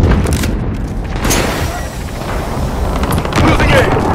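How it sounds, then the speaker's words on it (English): Heavy booming explosions from a precision airstrike in Call of Duty: Modern Warfare Domination, dense and continuous with rumbling blasts layered over one another, loud throughout with gunfire mixed in. "Precision airstrike on the way."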